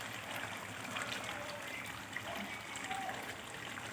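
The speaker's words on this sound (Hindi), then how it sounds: "अब इसमें थोड़ा पानी डालना है।" Water poured into a pan of chicken curry that has been frying until the oil separates, giving a steady, close hissing gush with sizzle throughout.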